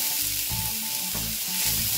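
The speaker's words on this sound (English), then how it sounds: "heat a little bit of your oil and add your onions and your celery" Onions and celery sauté in a little oil in a saucepan, giving a close, steady sizzle with a faint rhythmic hum and periodic soft pulses from stirring.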